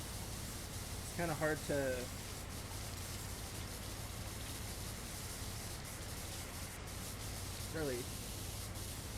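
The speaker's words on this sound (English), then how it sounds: "we'll go ahead and just spray her down" A sprayer hisses steadily while coating a tiny room, a constant soft rushing noise that runs beneath a man's occasional speech.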